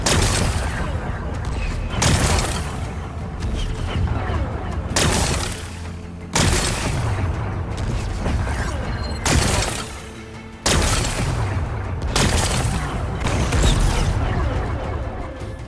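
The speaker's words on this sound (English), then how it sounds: "Gotta blast away some rocks so I can expose the... It's working! Exploding." Explosives blasting away rocks in the video game Horizon Forbidden West, a run of loud, dense booming blasts with crumbling rubble, bursts coming every couple of seconds across the whole stretch.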